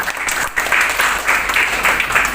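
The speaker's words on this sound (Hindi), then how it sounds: "ताली बजाइए" An audience at a memorial event claps together, a continuous round of applause that swells and sustains throughout.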